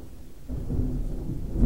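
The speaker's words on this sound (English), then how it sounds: "I just caught the thunder on tape." Thunder booms during heavy rain in a storm, a deep rumbling roar that swells suddenly and stays loud over steady rainfall, close and strong with no talking.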